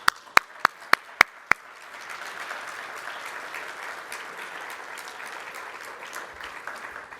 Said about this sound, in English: I just want to take a moment to do a round of applause for the Community Foundation team